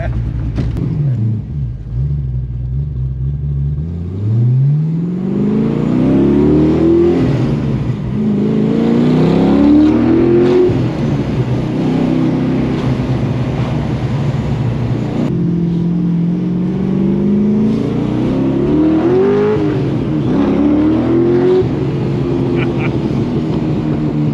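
An LS1 V8-swapped Porsche 911 accelerates hard: loud, close engine notes climb repeatedly through the gears, each rise broken by a brief dip at the shift, over a steady road roar.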